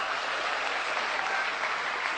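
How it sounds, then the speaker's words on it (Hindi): An audience bursts into dense, loud applause at a talk, a steady broadband roar of clapping lasting a couple of seconds with no voices. "एक बार जोरदार तालियां शांति के लिए।"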